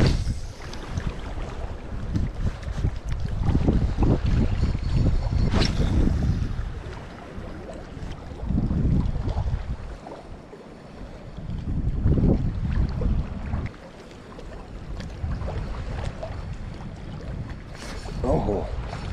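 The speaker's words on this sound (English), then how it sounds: "Wind blowing 20 in our face, just how we like it." Strong wind buffets the microphone at a trout fishing spot, a loud, continuous rushing roar with gusty surges and dips throughout, and no talk over it.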